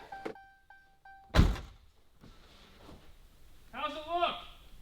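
A panel or door swings shut with a single solid thunk, close and fairly loud. Faint beeping comes before it, and people talk quietly afterward.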